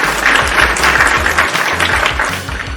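A studio audience at a wrestling podcast taping claps and cheers in a loud, sustained wash of applause that runs the whole time and only begins to thin slightly near the end.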